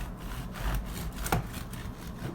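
Faint sawing and scraping as a knife works back and forth through a crusty, hollow-sounding loaf of soda bread, a few short rough strokes.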